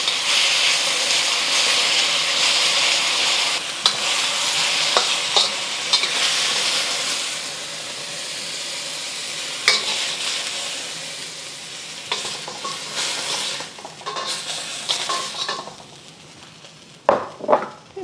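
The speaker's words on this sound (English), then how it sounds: "After about a minute of searing, I'm going to flip it over, stir it around." Beef for Thai basil stir fry sizzles loudly in a hot wok, a steady frying hiss broken by scraping stirs and spatula knocks that grow more frequent near the end, with no talking.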